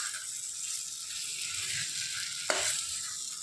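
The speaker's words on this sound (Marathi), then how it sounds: "तर पुन्हा आपण मसुरासोबत सगळं परतूया" Sprouted masoor lentils sautéed with spices in a pan for masoori chicken: a constant close sizzle, with one sharp scrape or clink of a utensil partway through.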